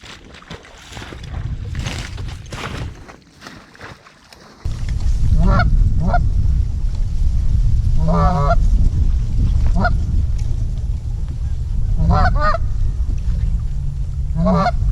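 Geese honk in repeated bursts during a late-season hunt in Indiana, some close and loud, over a steady low rumble of wind or water noise.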